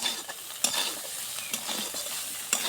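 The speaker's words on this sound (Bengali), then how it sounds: "হলুদ লবণ দিয়ে আগে ভাজে নিতে হবে।" Food frying in hot oil with turmeric and salt, a steady close sizzle broken by a few sharp stirring clicks, with no voices.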